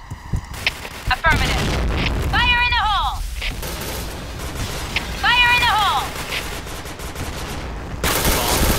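Loud booming blasts in the video game Point Blank Evolution, including a grenade explosion, land alongside gunfire and broadband rumbling. A voice speaks throughout, and chirping game sound effects come and go between the blasts.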